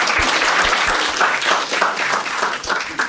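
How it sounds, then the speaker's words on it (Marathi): Audience at a comedy roast show breaks into dense, steady clapping that stays loud and continuous throughout. "एकदा टाळ्या वाजवा यांच्यासाठी"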